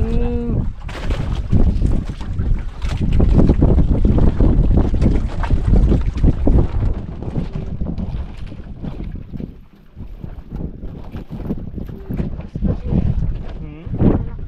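Strong sea wind blasts the microphone in loud, continuous gusts on open water aboard a boat, with waves and people talking underneath.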